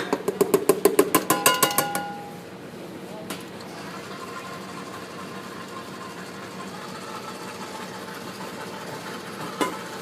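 An electric mixer on medium speed creams cake batter with powdered sugar for a joconde sponge. It opens with about two seconds of rapid rhythmic clatter, then settles into a steady, fairly quiet motor whir, with one short knock near the end.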